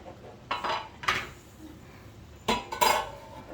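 A seafood boil being stirred in a metal pot, with clanking utensil knocks against the pot in a few scattered bursts, close and moderately quiet.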